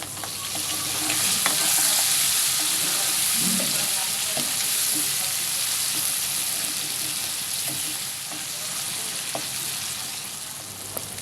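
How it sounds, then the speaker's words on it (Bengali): Pangas fish pieces fry in hot oil while being stirred slowly, a steady close sizzle with soft scraping and occasional small clicks of the utensil throughout, no voices. "মাছগুলো তেলের ভিতর দিয়ে খুবই ধীরে ধীরে নাড়তে হবে"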